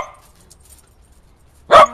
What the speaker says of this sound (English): With my puppies. Who are barking at me because they're not throwing the squeaky.